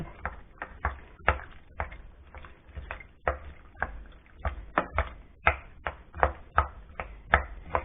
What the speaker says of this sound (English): give it all a good stirring. Mash it around a bit